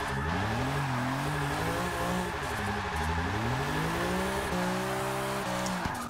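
A BMW E36 M3 drift build in Forza 6 screams through corners, its engine note rising and falling in long sweeps over continuous tire squeal, loud and close throughout.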